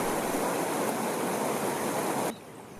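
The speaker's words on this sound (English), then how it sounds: "we take off our shoes to cross the creek. The water is damn cold." A cold creek, a branch of the Azat river in Armenia, rushes steadily as a loud continuous wash of flowing water that cuts off abruptly near the end.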